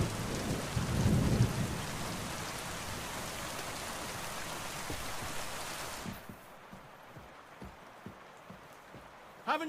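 Thunderstorm with heavy rain in Kingdom Come: Deliverance 2, a loud rumbling downpour with thunder that suddenly cuts out partway, leaving faint rhythmic clopping steps and a voice under it.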